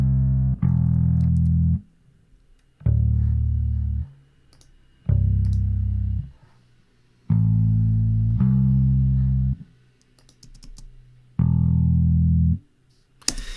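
Heavily fuzzed bass guitar plays short sustained notes in bursts, each separated by brief silences, loud and gritty.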